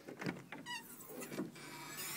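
Rear hatch of a 1974 Datsun 260Z opening, a short mechanical release followed by a creaking, whining rise as the hatch lifts. The sound is close and moderately loud, and no voices are heard.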